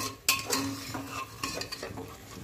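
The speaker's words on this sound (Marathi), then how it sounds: "1 किलो चिकन घेतलंय मी, त्याच्यामध्ये टाकून घ्यायचे आपल्याला, छान परतून घ्यायचे ते आपल्याला" One kilo of chicken being sautéed in a pressure cooker, with sharp metal spoon scrapes and clinks against the pot over a soft sizzle, a few distinct stirring strokes close up.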